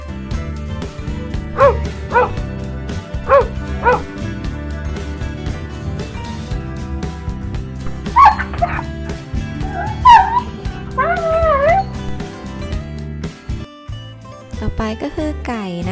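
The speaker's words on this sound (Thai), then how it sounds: "มาฟังเสียงของสุนัขกกันนะคะ" A dog barks in a few short bursts, then whimpers and yips in higher, wavering cries, all set against steady background music.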